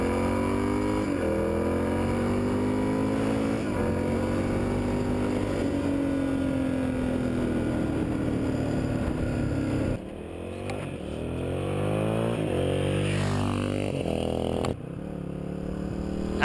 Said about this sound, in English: Now that the engine is warmed up, it's time to give a few strong passes to really seat those piston rings against the cylinder wall.